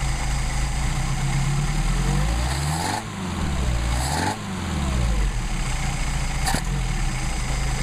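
Mercedes 190SL engine with Solex carburetors idling loud and close, a continuous throbbing rumble that dips and recovers briefly as the idle settles.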